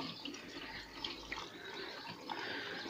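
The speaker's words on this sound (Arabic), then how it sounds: "الميه دي بقى بتسلك اي حاجه تحت في المواسير" Water poured down a refrigerator drain pipe during a repair of a leaking fridge, a soft, fairly faint trickle and splash that flows continuously with a few small gurgles.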